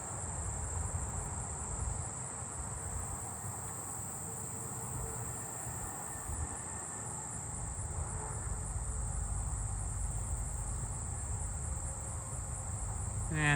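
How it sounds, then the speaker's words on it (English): An agile meadow katydid calls nearby in a suburban neighbourhood, a steady high buzzing trill that runs continuously over a quiet outdoor background of insects and distant traffic. "There's another agile meadow katydid nearby right here."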